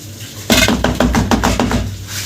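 A pan of roasted gram panjiri being shaken side to side to level it, making a close, rhythmic metallic clatter of about seven quick jolts after a brief quiet start.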